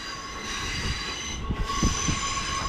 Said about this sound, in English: that's the train now coming out of the siding to form its next service back to Glasgow